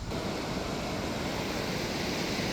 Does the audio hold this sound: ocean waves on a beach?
yes